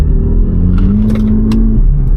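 A VW Polo GTI hatchback accelerates with a loud, steady engine drone heard from inside the car, the pitch rising smoothly and then settling, with a few faint clicks over the top.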